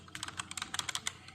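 Rapid computer keyboard typing, a quick run of crisp, close key clicks in uneven rhythm with no voices over it.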